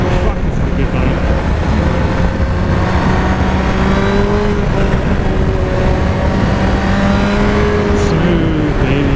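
Honda CBR954RR FireBlade sport motorcycle engine droning under way on a ride, a loud steady whine with rising and falling pitch as the rider shifts, continuous wind rush throughout.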